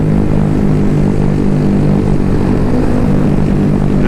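Small-bore motorcycle downshifting through the corners on the Tail of the Dragon during a rally; a loud, close, buzzing engine drone runs continuously with slight pitch shifts and no voices.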